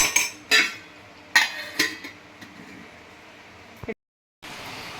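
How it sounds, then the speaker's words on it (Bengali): A lid is set onto a steel steaming box, heard as several close metallic clanks and clinks in quick succession followed by a brief scrape, with a voice speaking around the handling. "এবার এই বক্সটা আমি চাপা দিয়ে দেব"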